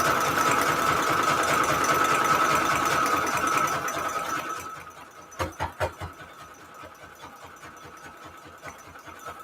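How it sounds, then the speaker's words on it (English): Sewing machine stitching down the middle of a patchwork junk journal cover, running in a steady, fast whirring rhythm that slows into separate thumping stitches about halfway through, close up with no talking. "so I'm just sewing down the middle of this"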